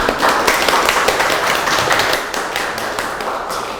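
An audience applauds after a science lecture in a hall, dense steady clapping from many hands lasting throughout without talk, easing slightly toward the end.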